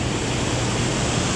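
Waterfall at a trout fishing spot below Center Hill Dam, a loud, steady rushing wash of water filling the whole moment without pause or voices.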